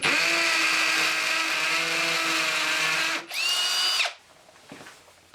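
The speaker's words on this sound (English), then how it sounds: "you can simply drill a 5mm hole" A power drill whines steadily for about three seconds while drilling a 5mm hole in a wall, briefly stops, spins up again at a higher pitch, then cuts off, leaving quiet handling noises.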